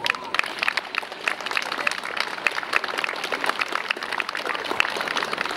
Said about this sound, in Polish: wielkie brawa dla naszych księży rodaków.